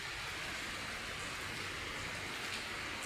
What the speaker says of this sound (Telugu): ఫ్రెండ్స్, వర్షం పడుతుంది పిల్లలు